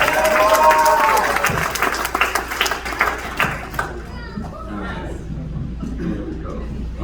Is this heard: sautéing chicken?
no